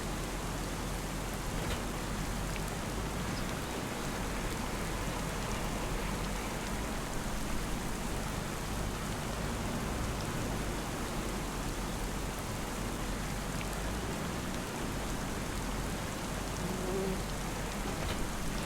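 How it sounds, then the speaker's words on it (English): Steady rain falls in Farming Simulator 25, a dense, even hiss that stays constant throughout with no voices. "And it's raining."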